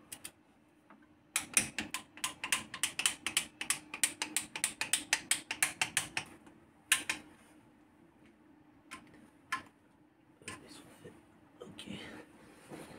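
Ratchet wrench tightening the oil pan bolts on a Peugeot 206 CC 2.0 16-valve, a close, fast run of sharp clicks in bursts that slow to scattered single clicks, with someone talking over parts of it.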